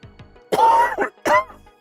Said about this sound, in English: Weird, I thought the cough was gone.